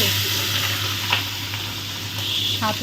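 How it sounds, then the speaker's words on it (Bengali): Prawns fry in hot oil in a home kitchen pan, a loud, steady sizzle with occasional sharp crackles and a few spoon scrapes, close by and with no talking. "তেল গরম হয়ে গেছে আমার, চিংড়ি মাছটা দিয়ে আর ওইটা দিয়ে আমি ওটা ভেজে নেব"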